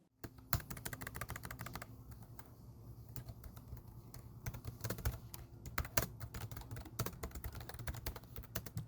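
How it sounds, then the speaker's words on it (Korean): Steady computer keyboard typing, a quick run of sharp clicking keystrokes with short pauses, close up and continuous with no voices. "키보드 타자 소리 들으면서 마무리하겠습니다"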